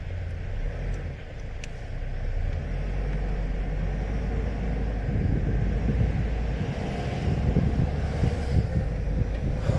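Cold wind rushes through an open car window, a steady close roar of buffeting air mixed with road rumble from the moving car.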